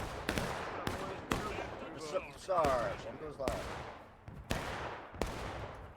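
Musket volleys crack in the Civil War game War of Rights during a large 160-player battle on the Reno's Fall map, sharp shots repeating irregularly at near and middle distance, with shouted voices in between.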